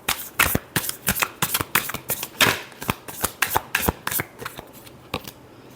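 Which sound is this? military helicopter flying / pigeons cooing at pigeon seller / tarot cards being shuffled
tarot cards being shuffled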